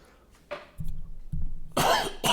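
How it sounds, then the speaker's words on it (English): A person coughs up close in a rough, throaty run: a short cough, then several low hacking coughs that end in one loud, forceful burst. "sorry, I'm coughing."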